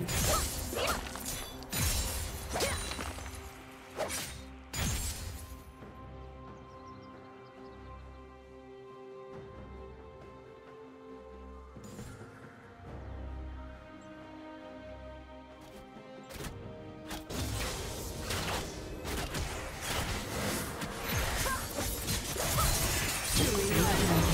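A turret crumbles and shatters during a League of Legends mid-lane match, a crashing, breaking burst layered with game sound effects and music across the whole stretch, loud and busy.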